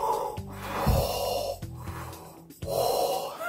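A person imitates Darth Vader breathing through his mask: slow, heavy, rasping inhales and exhales repeated several times, loud and close to the microphone.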